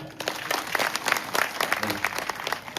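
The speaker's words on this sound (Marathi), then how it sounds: "जोरात वाजवा एकदा टाळ्या" An audience claps steadily for two mridang players at a live devotional performance, a dense patter of applause sustained throughout, with a voice speaking over it.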